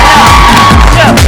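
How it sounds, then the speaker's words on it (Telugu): A Telugu television studio audience bursts into a short, loud cheer with whoops and raised voices in one quick burst. "ఆడియన్స్ ఒకసారి గట్టిగా చప్పట్లు"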